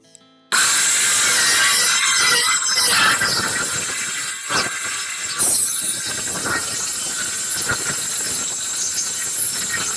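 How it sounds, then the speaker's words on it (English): A jigsaw cuts wood for boat companionway doors with a loud, continuous buzzing rasp that starts abruptly, dips briefly midway, then carries on close and steady. "I'm going to leave the last little bits to cut by jigsaw"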